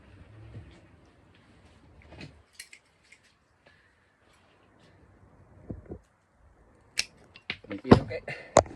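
Scissors trimming a honeysuckle cutting, several sharp close snips in a quick cluster near the end after quiet handling noises and faint talk.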